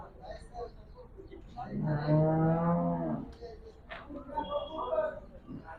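A desi cow at the Chakan cattle market gives one long, loud, nearby moo lasting over a second, with a quieter lowing sound afterward. People talk in the background of the busy market.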